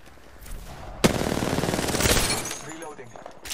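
Rapid full-auto bursts from an R-99 submachine gun in Apex Legends, loud and dense after a sharp opening shot, with in-game voice lines and a player talking underneath.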